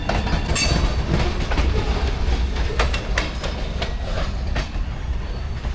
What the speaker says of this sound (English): There are still a few trains every now and then, but they're not nearly as loud